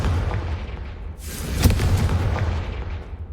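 A Confringo blasting spell from Hogwarts Legacy bursts with a loud, booming explosion roughly midway through, followed by a rumbling, crackling tail over low ambient noise.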